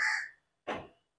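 A crow caws twice, loud and close, two harsh separate calls with a short silence between them and nothing else around.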